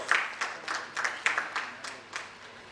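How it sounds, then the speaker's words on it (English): Crowd applause at an education summit welcoming a vice chancellor on stage, a moderate wash of clapping with rhythmic swells, somewhat distant and steady throughout. "Huge round of applause."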